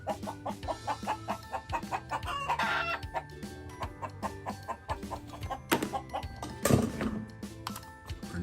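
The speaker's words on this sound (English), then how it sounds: "Our next one is a chicken." Toy chicken sounding off, with repeated clucks and a rooster-style crow ringing out over a steady looping electronic tune, loud and close, with no talking.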